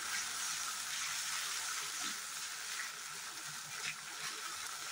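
Cornflour slurry goes into Manchurian sauce in a hot pan, giving a steady bubbling sizzle with faint stirring scrapes, moderately quiet and continuous.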